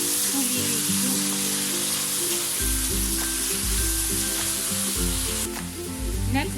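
Chicken filling for spring rolls sizzles in a hot pan, a loud continuous frying hiss with occasional stirring scrapes, close up and without talk.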